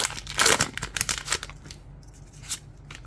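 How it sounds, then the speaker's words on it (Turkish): Foil Pokémon trading card booster pack from a Scarlet & Violet Prismatic Evolutions set being torn open, with close crinkling and a sharp tearing rip, then quieter rustling of the wrapper. "Üçüncü paketi açıyoruz arkadaşlar"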